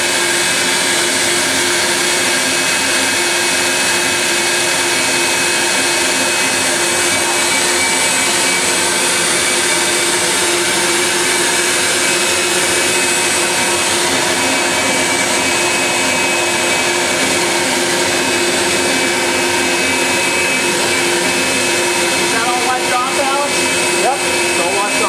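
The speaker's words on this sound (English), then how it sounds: "I'm going to put the vacuum on it." A vacuum cleaner drones steadily at close range throughout while cleaning a rusted 7.3 Ford oil pan, a loud continuous whirring hum that never lets up.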